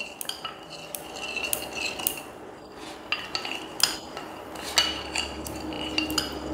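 A spoon stirs cornflour batter in a bowl for paneer cutlets, making a run of irregular metallic clinks and scrapes, close and fairly loud, with no talking.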